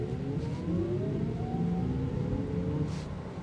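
A 2025 Audi RS e-tron GT Performance accelerates at partial throttle, a steady rising electric whine with rising tones over road rumble, close and moderate in level, with no talking.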